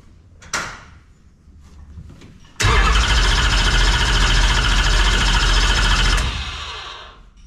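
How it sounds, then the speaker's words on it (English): Crate engine with fresh valve springs in a Longhorn chassis cranks, then roars into a loud, steady run up close for several seconds before winding down, after an earlier clunk. "All right, we're going to fire this thing up."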